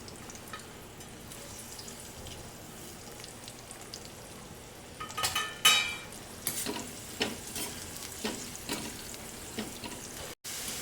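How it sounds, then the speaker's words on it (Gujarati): Capsicum frying in a pan for a pulao-kadhi recipe: a quiet background hiss, then louder crackling sizzles and stirring scrapes break in irregularly near the close, with no talking. "કેપ્સિકમ પણ તળી લીધા છે"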